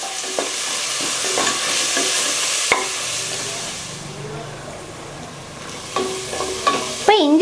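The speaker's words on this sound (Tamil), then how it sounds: "நல்லா வதக்கலாம்." Ginger garlic paste with green chili sizzles and sautés in a hot pan with steady frying hiss, punctuated by scraping stirs and spoon clinks against the pan.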